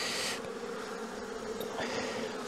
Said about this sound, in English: Boy, there's bees everywhere.